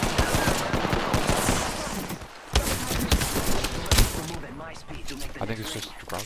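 Rapid automatic gunfire in Apex Legends rattles in dense bursts, with a brief lull midway before more shots, under the busy clatter of the game.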